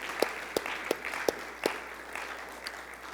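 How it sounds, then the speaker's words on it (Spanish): Applause rises from a church congregation during a Spanish-language sermon: about five sharp, distinct claps stand out at the start, then softer, scattered clapping trails off. "¿Cuántos le pueden dar un aplauso al Señor?"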